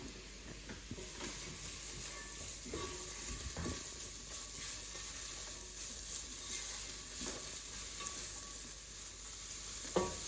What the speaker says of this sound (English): So we'll let the onions soften in the pan here for a few moments